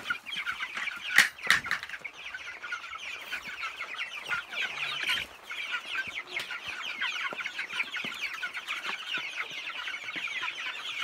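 Chickens on pasture, including a broody hen sitting on eggs, cluck steadily in a dense chorus with occasional louder squawks and wing flaps, no talking.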